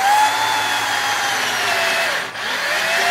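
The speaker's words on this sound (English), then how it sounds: "we're going to screw this one in" A motorized screwdriver drives a screw into a Losi 5ive steering link, a steady high whirring hum that holds for about three seconds with a brief dip near the end.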